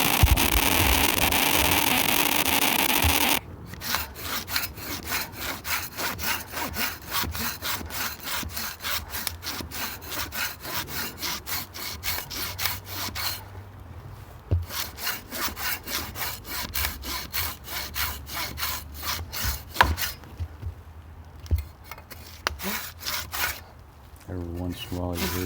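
A Silky Bigboy Outback folding handsaw cuts through wood in steady back-and-forth strokes, close and fairly loud, with a few brief pauses and occasional cracking as the kerf opens.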